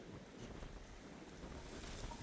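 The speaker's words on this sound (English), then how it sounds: "It's super windy." Strong gusting wind buffets the microphone outdoors during metal detecting, a steady loud roar of broadband rumble and whoosh with no voices, filling the whole stretch.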